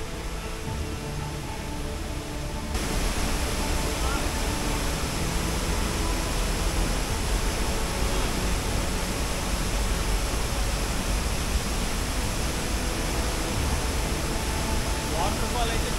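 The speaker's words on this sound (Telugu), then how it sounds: "ఈ వాటర్ ఫాల్ అయితే మాత్రం కాంచనజంగా వాటర్ ఫాల్ సూపర్." A waterfall fed by snowmelt at Kanchenjunga Falls near Pelling, Sikkim, roars as a dense, steady broadband rush that grows louder after a few seconds and then holds constant, with voices faintly underneath.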